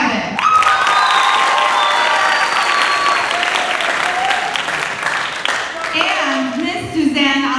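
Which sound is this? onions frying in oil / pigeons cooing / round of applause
round of applause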